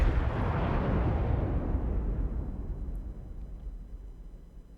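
The USS Texas battleship fires its guns in World of Warships, a single heavy boom whose broad roar rolls on and slowly fades over several seconds with no talking.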